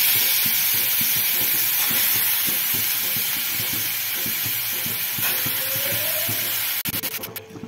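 Washed moth bean sprouts hiss and sizzle steadily in a hot pan, a constant frying crackle with faint scraping stir strokes, ending in a few sharp clatters, with no talking.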